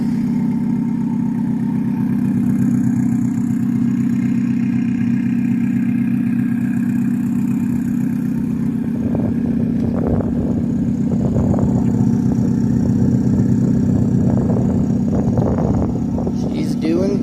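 A car engine with a newly made up-pipe muffler runs at a steady idle. Its even, low drone continues through the whole stretch while people talk over it.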